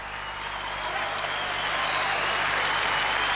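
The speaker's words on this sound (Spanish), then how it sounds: "un aplauso cerrado" Sustained applause from a crowd after a Argentine senator's 45-minute presidential campaign launch speech in 2007, a dense, steady clapping wash that holds loud and even throughout.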